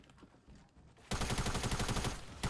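Rapid automatic gunfire from a gun in Fortnite bursts in after a quiet second of background game noise, then roars loud and continuous for the rest of the clip.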